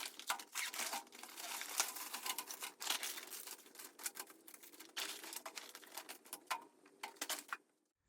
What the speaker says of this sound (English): Now I just opened up the contents of our accessory bag